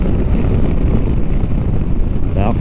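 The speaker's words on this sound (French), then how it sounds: "Il y a des turbulences sur le haut du casque, c'est très léger, ça fait un petit peu de bruit" Wind turbulence buffets the top of a helmet while riding a BMW F450 GS motorcycle, a constant low rushing roar with no voices.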